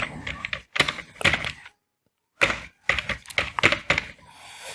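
Keys clatter on a computer keyboard in quick bursts of typing, with a short silent pause midway, close and clear.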